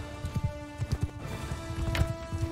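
A horse gallops in the video game Mount & Blade 2: Bannerlord, its hooves thudding in a quick, uneven rhythm of close clip-clop beats, with a steady tonal hum beneath and no speech.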